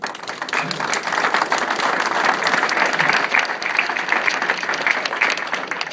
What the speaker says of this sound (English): Again, another round of applause for them.